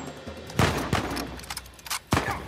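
Gunfire in the video game Uncharted 4: several sharp shots spread across a few seconds, a strong pair near the start and another burst near the end, over steady game ambience with no talking.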